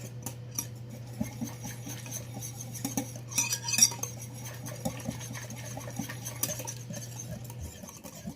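Buttermilk ranch dressing is whisked in a bowl, a soft, quick scraping and clinking of the whisk against the bowl going on steadily for several seconds, close and fairly quiet, with no talk.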